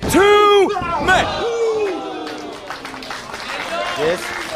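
A crowd at an independent wrestling match reacts to a near fall with loud shouts and cheers, then dies down into a murmuring, unsettled hubbub as a commentator talks over it.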